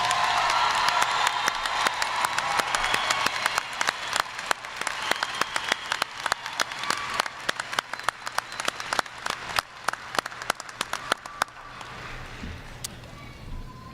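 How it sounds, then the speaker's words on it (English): A graduation audience at MSU Texas breaks into loud, sustained applause with some cheering, with dense clapping that thins into scattered individual claps before fading out near the end. "join me to applaud and celebrate the achievement of these graduates"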